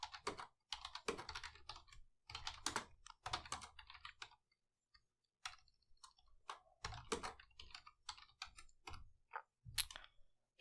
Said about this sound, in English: Now we can type show IP interfaces brief.